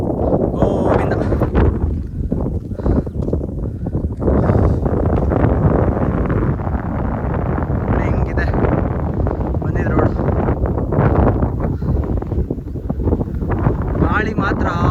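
Strong wind buffets the microphone on the Kailasagiri hilltop at Kaiwara, a loud, continuous roar with gusty swells that never lets up.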